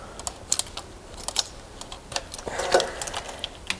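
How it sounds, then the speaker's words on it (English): Injector plug connectors being unplugged on a BMW M42B21 engine, heard as a scattered series of light, close plastic clicks and taps with no voices. "Remove the injector plugs."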